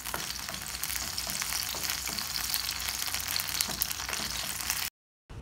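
Red chillies roast in a tablespoon of oil in a pan, a dense, steady sizzle and crackle that stays close and constant, then cuts to silence near the end.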